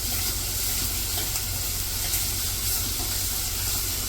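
Ingredients for a Kerala-style fish curry fry in a pan, giving a steady, close sizzling hiss with a low hum beneath, unbroken and without talk.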